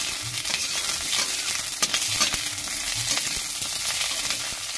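Tilapia fish pieces frying in hot oil in a pan, a continuous bright sizzle with occasional stirring clicks, close up and steady throughout.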